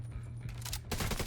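Bursts of automatic gunfire from The Division 2 video game, a rapid rattling stream that intensifies toward the end of a short moment, fairly close and steady.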